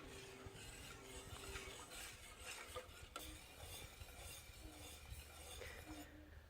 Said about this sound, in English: I'm just going to keep whisking it.